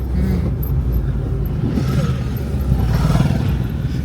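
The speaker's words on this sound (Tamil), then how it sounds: "இந்த பைக்கர்ஸ்லாம் வராங்க பாருங்க நிறைய பேர்." Motorcycles rumble and rattle past continuously on a mountain road in Ladakh, with a rising growl of bikes near the end.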